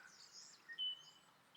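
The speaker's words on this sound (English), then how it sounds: "Hope you can hear those birds chirping in the distance." Faint, thin bird chirps and a brief whistled call drift in from a distance over quiet background.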